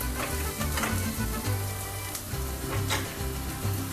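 Baby potatoes and lentils sizzle steadily in a hot pan, a dense, close crackling frying sound with faint stirring throughout and no talk.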